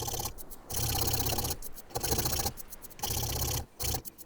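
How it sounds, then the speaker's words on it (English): A saw rasp files and carves a wooden guitar neck by hand, producing rhythmic rough scraping strokes roughly every half second in short runs separated by brief gaps, close and moderately quiet. "I was pretty impressed by the saw file here"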